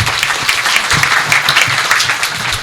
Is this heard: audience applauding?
yes